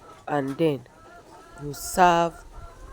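Chickens clucking at close range while being fed papaya leaf juice, a few short bursts of clucks spaced apart, with someone talking between them.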